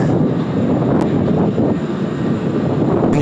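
A Jetstar Airbus A321 airliner lands at Sydney Airport with a loud, steady, close engine roar that holds evenly throughout, with some wind buffeting on the microphone.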